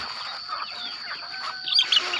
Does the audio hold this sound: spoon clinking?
no